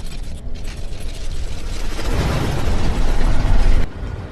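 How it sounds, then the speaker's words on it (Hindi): Big tanks in an action movie scene make a rough mechanical rumble with clanking, ratchet-like tread rattle that builds in loudness and then cuts off abruptly near the end. "बड़े टैंक।"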